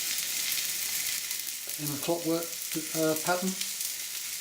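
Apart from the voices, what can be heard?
ox cheeks searing in a hot pan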